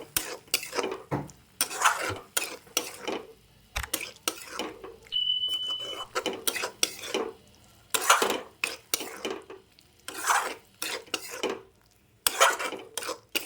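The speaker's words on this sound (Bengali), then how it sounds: "একটু ডিম দিয়ে মশলাটাকে কষাই" Fried eggs are stirred into a sautéing masala for a dhaba-style egg curry, heard as repeated close scraping and clattering bursts of a spatula against the pan with pauses in between.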